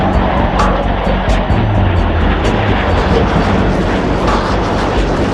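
Jet engine roar from a Soviet attack aircraft, a loud, steady broadband rumble that holds for about five seconds without a break or fade.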